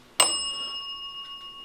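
An electronic bell device goes off inside Edinburgh Manor, a reputedly haunted building in Iowa, with one sharp chime whose bright ringing tones sustain and slowly fade, followed by faint soft ticks.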